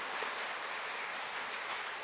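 A church congregation gives the choir conductor a round of applause during Sunday worship, with even, continuous clapping across the room at moderate volume.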